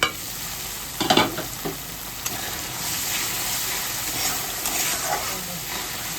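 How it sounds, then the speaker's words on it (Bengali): Stirring an egg dish frying in a pan: a steady hiss of sizzling oil runs throughout, broken by a few scraping, clinking stirs early on and softer ones later. "একটু ঢাকাটা খুলে নাড়িয়ে দিই।"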